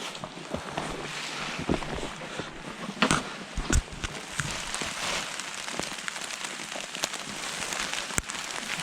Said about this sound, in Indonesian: Ya, dan hujan lagi bosku.